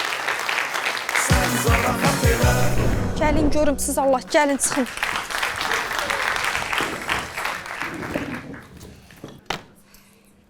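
Audience applause and cheering at the start of a live comedy sketch show, with music and a presenter's voice calling people onstage over the clapping before it fades.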